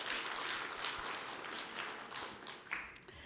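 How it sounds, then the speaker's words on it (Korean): A church congregation at a Sunday worship service applauds, a dense, fairly faint wash of many hands clapping that continues steadily for a few seconds before thinning out near the end. "하나님께 영광의 박수 올려드립니다."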